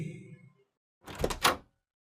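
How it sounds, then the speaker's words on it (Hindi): A door starting to open in a horror story, heard as a short muffled thunk and creak after a moment of silence, with a faint voice trailing off just before. "यह दरवाजे की आवाज थी।"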